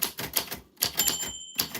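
A typewriter types close by in clipped bursts of keystrokes separated by brief pauses, with a thin, sustained bell-like ring of the carriage ding sounding in the middle.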